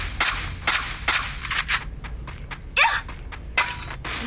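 Gunfire in the Free Fire video game rings out as sharp, crackling shots, some single and some in quick bursts, spaced irregularly over a low background hum.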